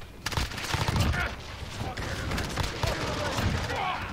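Gunfire rattles in Call of Duty: Modern Warfare multiplayer, dense volleys of shots that are loud at first and then thin into steadier bursts, with a voice talking over the shooting.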